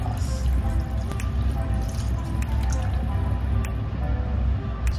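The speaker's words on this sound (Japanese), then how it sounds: "ここに赤ワインを加えていきたいと思います" Red wine is poured into a pot of beef tendon stew for hayashi rice, giving a steady close liquid splashing and gurgling that runs the whole time under a low broadband rumble, with no talking.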